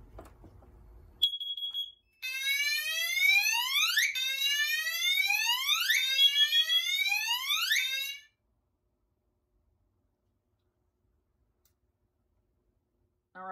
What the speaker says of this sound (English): Now we're going to go ahead and activate the CO detector.